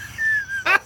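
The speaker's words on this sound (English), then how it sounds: "they're barking at the neighbor dog" Dogs barking at a neighbor's dog at home: a thin whine-like tone followed by one short, bright bark, fairly close, over a low background rumble.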